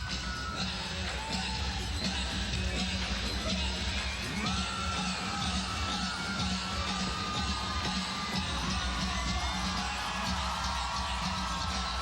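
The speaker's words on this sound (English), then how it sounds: "You can hear the crowd going wild." A home crowd at a women's college gymnastics meet cheers and whoops continuously, a dense, distant roar of many voices that stays at an even level throughout.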